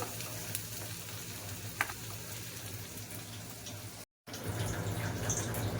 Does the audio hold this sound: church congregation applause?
no